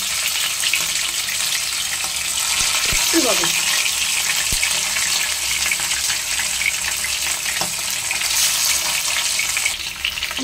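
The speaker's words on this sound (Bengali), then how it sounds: "এবারে একটা একটা করে ভেজে নিচ্ছি।" Bhola fish, rubbed with salt and turmeric, fry in hot oil with a loud, continuous close-up sizzle and scattered sharp pops throughout.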